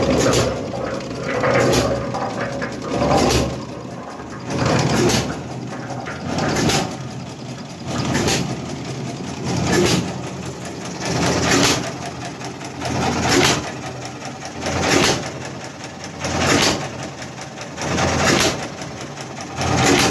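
A cement mixer's engine runs continuously with a rhythmic, periodic churning pulse about every second and a half, steady and fairly loud without a chain fitted, with no voices over it.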